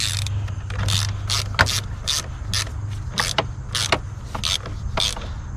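Ratcheting clicks from a socket wrench tightening the positive battery terminal on a 2013-2017 Honda Accord 2.4L, a rapid run of close, crisp ticks in short bursts over a low steady hum, no talk.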